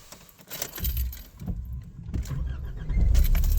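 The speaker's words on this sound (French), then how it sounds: "je coupe le moteur" A car engine is switched off, low rumble cutting out amid a few mechanical clicks and a jangle of keys, then quiet cabin sounds that swell slightly at the end.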